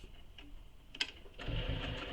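A domestic sewing machine sews a box stitch on a belt bag, with a few ticks and clicks at first, then a steady mechanical run of stitching through the last second or so, heard close.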